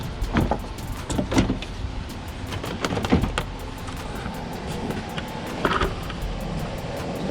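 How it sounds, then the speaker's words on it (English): Plastic bumper being gently pulled off a BMW 328i, with a scatter of sharp clicks and snaps as clips release amid rustling and scraping, close and moderately loud, no talking. "Start taking off the bumper slowly."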